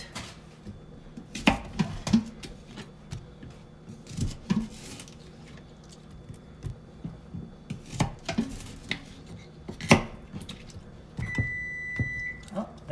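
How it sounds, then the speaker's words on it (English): A knife chops food into smaller pieces on a board in irregular bursts of sharp cuts with pauses between them; an oven beeps near the end. "I'm just going to cut these up into smaller pieces because they're a little big."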